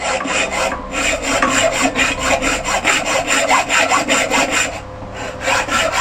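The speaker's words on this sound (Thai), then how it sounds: "เราจะทำทานท้ายครับด้วยการเลื่อย" A hand saw cuts through a steel bar for a spear gun stock, making steady back-and-forth rasping strokes that are loud, close and continuous with only brief pauses.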